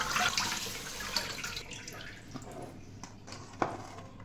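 Water drains and trickles from freshly washed fenugreek leaves through the holes of a strainer, a fairly close, continuous wet splashing with a few brief drips and clinks, gradually thinning out.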